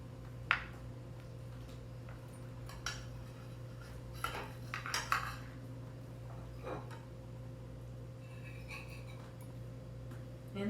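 A piece of blueberry cobbler is lifted from an Ooni cast iron skillet, with faint scattered scrapes and metal clinks of a utensil against the pan over a quiet room hum.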